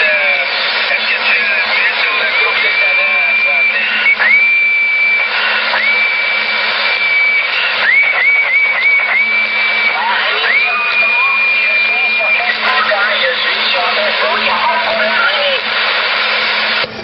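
CB radio channel filled with constant hissing static and a carrier tone, while shifting whistled tones rise, hold and drop repeatedly over the loud band-limited noise.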